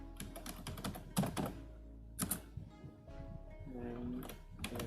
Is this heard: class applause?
no